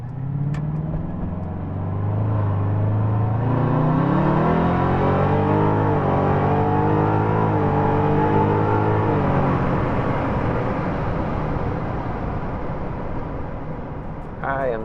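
A 1967 Shelby GT500 V8 revs up and settles back, a loud, close, rumbling engine note that rises and falls over several seconds, with talk over parts of it.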